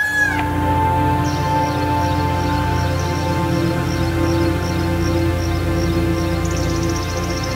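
Birds calling from a tree in Lima, Peru, a steady run of short repeated chirps over a constant loud background drone, continuous throughout with no talking.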